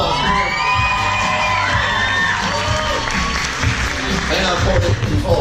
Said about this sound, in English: let's give Courtney a round of applause